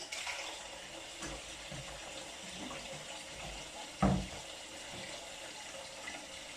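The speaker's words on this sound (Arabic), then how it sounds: "همسك بقى الحوض كده انضف بقى كده الحاجات اللي عليه" Kitchen sink being cleaned under a running tap, a soft continuous trickle of water with faint handling sounds and one brief louder clatter partway through.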